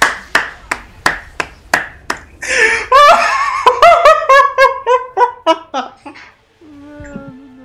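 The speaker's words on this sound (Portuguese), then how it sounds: "Palmas!" Sharp rhythmic hand claps ring out close up during a game of League of Legends ARAM, then a burst of high squealing, laughing vocal sounds joins in before tailing off into a short held tone.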